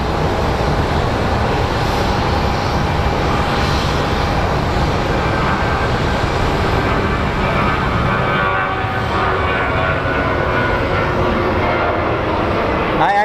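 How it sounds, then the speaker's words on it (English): A WestJet Boeing 787 airliner departing Phoenix Sky Harbor International Airport, its jet engines producing a loud, steady, broadband roar that holds throughout, with faint traffic noise underneath. "let's watch this WestJet as it departs"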